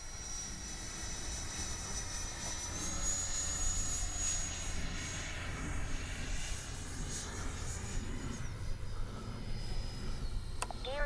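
A radio-controlled JAS-39 Gripen model jet with twin 70mm electric ducted fans flies overhead, giving a steady whooshing whine with pitch sweeps as it passes, heard at a moderate distance over outdoor background noise.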